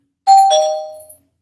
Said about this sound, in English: Doorbells work.